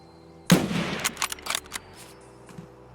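A loud gunshot cracks out in Escape From Tarkov, followed by a scatter of smaller sharp reports and rattles that trail off over a quiet background.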